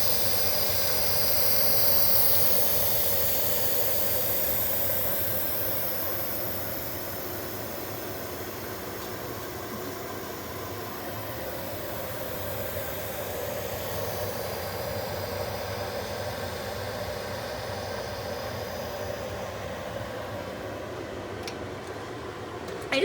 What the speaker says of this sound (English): push the steam release button, and you'll notice the steam shoots away from my hand